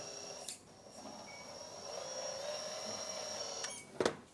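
A Lesu AT1050 RC telescopic forklift extends its hydraulic boom outward, a faint, steady electric motor whine with a rising pitch, framed by sharp clicks near the start and a louder clunk near the end.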